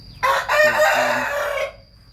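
A rooster crows once, loud and close, with a single drawn-out crow of about a second and a half on a Thai chicken farm, followed by quiet.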